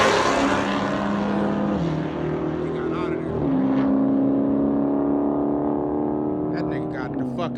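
A Dodge Hellcat engine roars through repeated revs, pitch climbing and dropping in several loud, close swells that settle into a steady high drone, with a voice briefly over it.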